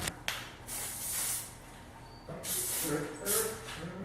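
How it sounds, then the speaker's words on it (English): Several short bursts of hissing hairspray from an aerosol can, separated by brief pauses, close by and fairly quiet. "I will take the hairspray and I will spray a little bit just to get those little flyaways"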